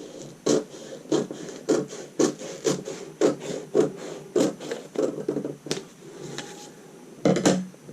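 Scissors cutting through a paper sewing pattern along a dart leg, with a steady series of crisp rasping snips in a regular rhythm, close and fairly loud, alone.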